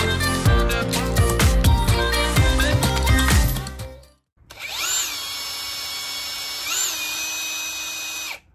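A power drill runs steadily with its bit slipping on the work, a loud continuous whine with two brief pitch swells, after a few seconds of music that cuts out.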